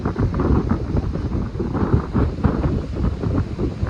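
Rough monsoon sea churning off the coast at Kunkeshwar, a loud unbroken roar of surf mixed with heavy wind buffeting the microphone, with no voices.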